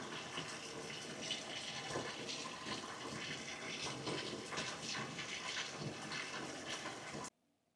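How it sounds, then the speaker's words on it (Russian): Pearl barley being rinsed and soaked: a steady, close gush of running water pours over the grain for about seven seconds, then cuts off abruptly, with no voices. "Теперь крупу нужно тщательно промыть и замочить водой"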